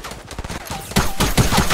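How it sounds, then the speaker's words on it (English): Rapid bursts of gunfire from the Fortnite battle royale game, a dense fusillade of shots in the first second followed by heavier, louder volleys and repeated impacts, with no talk over it. "Stop shooting at me."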